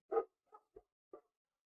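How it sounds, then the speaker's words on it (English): Dogs in a home bark four times: one stronger bark, then three shorter, softer ones spaced apart, fairly faint against an otherwise quiet room. "Apologies for the dogs again."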